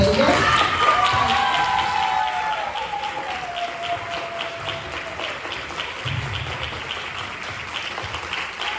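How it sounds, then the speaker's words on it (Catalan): Audience at an end-of-course celebration applauds warmly, sustained clapping with some cheering and a voice calling out early, gradually easing off but continuing throughout. "Un aplaudiment per elles."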